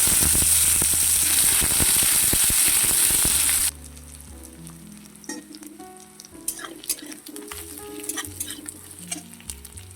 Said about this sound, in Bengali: তেল গরম হয়ে গেছে, ফোড়ন দেবো 5 ফোড়ন, শুকনো লঙ্কা, তেজপাতা, একটা বড় সাইজের পেঁয়াজ দিয়ে দেবো